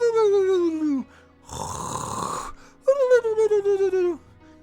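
A voice imitates snoring: a long drawn rasping snore, then a breathy snorting exhale, then another snore broken into quick pulsing rattles, loud and close.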